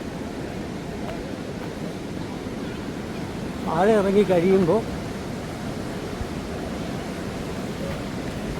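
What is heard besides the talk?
Athirappilly waterfall rushing water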